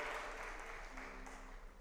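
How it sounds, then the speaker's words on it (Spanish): A church congregation applauding, with faint, steady, continuous clapping heard from a distance through a low hum. "Aplauda al Señor."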